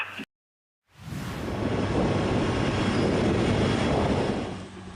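A tractor sowing corn in a farm field in the Zaporizhzhia district, a loud, steady engine drone that rises in after a brief silence and holds near and continuous without talk.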